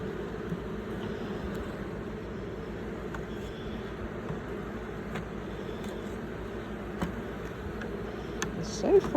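Honeybees working a hive fitted with honey supers in Southeast Alabama in May, giving a steady close buzzing hum with faint ticks and bumps.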